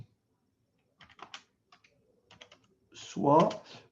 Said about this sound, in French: Mon clavier, c'est vraiment, il est en Wi-Fi. Ça ne marche pas bien.